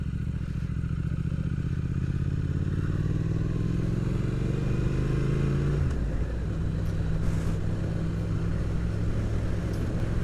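A motorcycle ridden along an industrial-area road on a Mod 2 test route in Erith, its engine droning loud and steady throughout, with a pitch sweep midway as it changes speed, and no talk over it.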